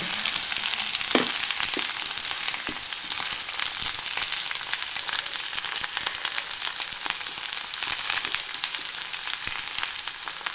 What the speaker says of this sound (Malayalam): കോവയ്ക്കിട്ടൊന്ന് ഇളക്കാം